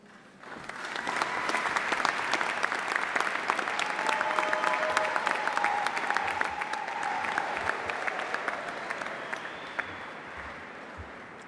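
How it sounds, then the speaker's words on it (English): Graduation ceremony audience clapping and cheering, a sustained round of applause that swells after a second, holds steady and tapers off near the end. "thank you for all the cheering and clapping"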